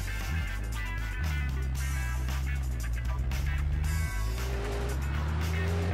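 Vehicle engine in Grand Theft Auto 2 on PS1, a truck the player drives, drones steadily with stepped pitch shifts as it accelerates and changes gear, loud and continuous.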